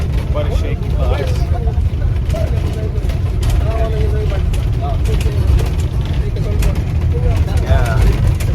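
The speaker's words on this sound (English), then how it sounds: "Listen to this shaky bus, man." A shaky, noisy bus on a rough road, its loud engine rumbling and the body rattling and clattering continuously, with voices talking underneath the din.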